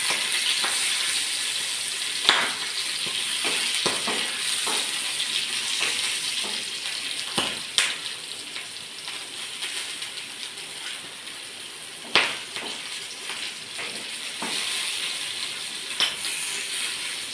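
Green chillies roast in a hot pan for a spicy thecha, giving a steady close sizzle dotted with sharp crackles and pops, with no talking.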